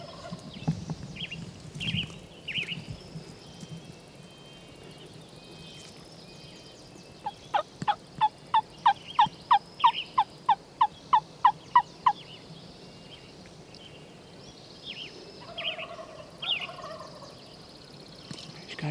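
A wild turkey gobbles in a rapid run of about a dozen sharp, evenly spaced notes during a spring hunt, mid-distance over a soft outdoor backdrop, with scattered hen-like calls before and after.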